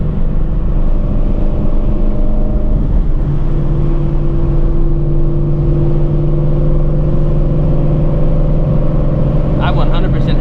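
A Shelby GT350 V8 fitted with a new twin-disc clutch drones loudly from inside the cabin while downshifting, a steady low engine hum with pitch shifts as revs change, plus a faint clicking near the end.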